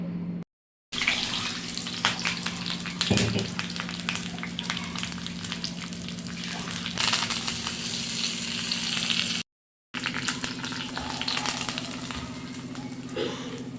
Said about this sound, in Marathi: आता आपण तडकं उचलूया